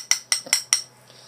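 A metal spoon stirring a soap mixture clinks briskly against a container four times in a quick, even rhythm, then the sound fades to quiet.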